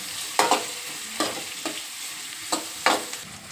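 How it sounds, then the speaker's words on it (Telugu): Onions frying in hot oil are stirred with a spoon, giving a soft continuous sizzle broken by a handful of sharp scraping strokes at uneven intervals. No one speaks. "ఉల్లిగడ్డ వేసుకోవాలి. ఉల్లిగడ్డలు ఎర్రపడే వరకు కలుపుకోవాలి."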